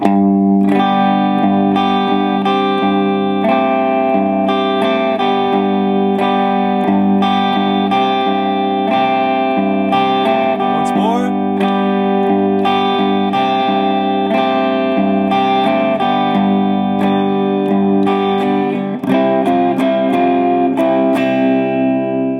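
Electric guitar plays a simplified riff from a song with a driven, slightly distorted tone, a steady stream of picked chord notes that ring together loud and close with no voices.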